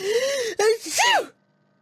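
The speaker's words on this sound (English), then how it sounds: "I've been sneezing all day." A voice acts out a sneeze in a spoken everyday-English dialogue, with a rising breathy build-up and a loud, drawn-out burst, heard close and clear before a sudden silence.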